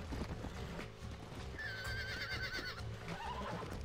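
Hooves clip-clop steadily while a horse neighs and whinnies in Red Dead Redemption, a high wavering call rising over the trotting rhythm, with a busy game-like backdrop.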